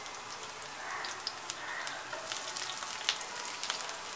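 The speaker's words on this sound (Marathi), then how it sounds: "छान परतून घेऊया." Onion, bay leaf, ginger and green chilli sautéing in ghee in a pan for pumpkin soup, giving a steady, soft sizzle with a few sharper pops and crackles throughout.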